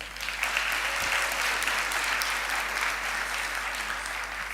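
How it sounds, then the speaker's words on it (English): Applause from the audience at a university autumn graduation ceremony for science and agriculture graduates, a steady wash of clapping in a large hall with a low hum underneath. "Let's give them a big round of applause."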